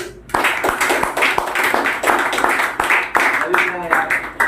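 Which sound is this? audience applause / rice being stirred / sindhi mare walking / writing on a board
audience applause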